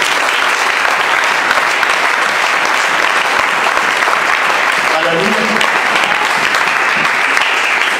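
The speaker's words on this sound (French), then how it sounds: "Est-ce que tu peux acclamer pour toi?" A church congregation bursts into loud, sustained applause that fills the room, with faint voices mixed into the clapping throughout.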